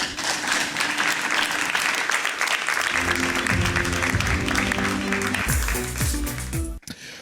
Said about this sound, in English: Shall we do a big round of applause for him, ladies and gentlemen?